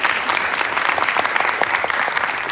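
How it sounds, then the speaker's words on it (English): An audience gives steady, dense applause at a community training event on immigration, with many hands clapping continuously and fairly near, and no voices standing out. "give yourself a round of applause"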